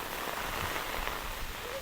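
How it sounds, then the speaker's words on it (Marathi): Heavy rain pours steadily during a storm in Konkan, a dense, even hiss of water striking surfaces, loud and unbroken throughout. "वादळ सुटला हा जोरात ऐक पाऊस तर भयंकरच"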